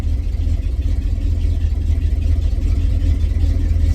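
A cold carbureted car engine idles low and steady, a constant rumbling hum with no revving, close by and alone.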